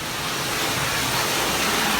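Water runs steadily into a filling bathtub ahead of a hurricane, a continuous broad rushing hiss without pause.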